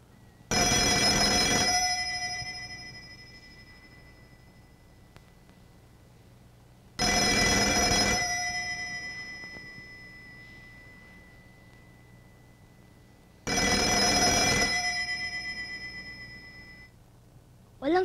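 A telephone from a 1986 Filipino film rings unanswered in three long, loud electronic bursts separated by silent gaps, ringing alone with no voices.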